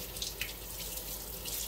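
A kitchen tap runs steadily over hands rinsing seeds from a roasted poblano pepper, a continuous close hiss of water with a couple of small splashes.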